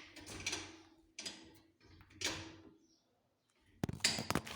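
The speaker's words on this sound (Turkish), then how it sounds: "Açacağım kapıyı." The kitchen door of an abandoned house is opened in several separate bursts of creaking, scraping and knocking, close by and fairly quiet, with brief silent gaps between them.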